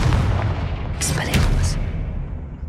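A Confringo blasting spell in Hogwarts Legacy bursts in a short explosive crack with a fizzing, crackling tail, heard over low rumbling game ambience and a voice casting the spell.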